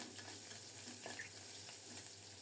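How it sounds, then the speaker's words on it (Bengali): Red amaranth greens frying in a pan with green chillies and salt, a soft continuous sizzle that is fairly quiet and steady, with no voices. "এভাবে লাল শাক ভাজা করলেও খুবই চমৎকার হয়।"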